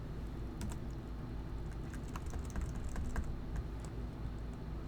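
Quick, light key taps on a Mac computer keyboard enter a terminal command, with irregular clicks close by over a constant low background hum.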